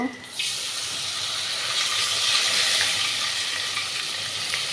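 Water poured into a pan of curry cooking with turmeric, chili powder and yogurt, giving a steady broadband hiss and sizzle that runs evenly throughout after a brief quieter start.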